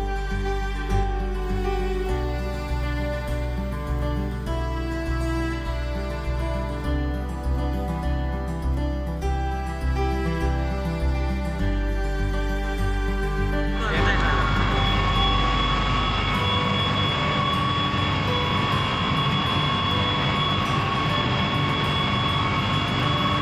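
Steam turbine coupled to a generator in a thermal power plant hall, a loud, steady low drone with layered harmonic hum, shifting to a broader, rougher roar partway through; a voice speaks over it.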